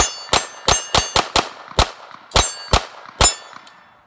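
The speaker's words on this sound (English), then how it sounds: "I'll just shoot right for the alpha zone plate there for CMP." Ruger Standard pistol shots striking a steel target plate: about ten sharp pops, each followed by a bright metallic clang, fired in a quick uneven rhythm at close range with no talking.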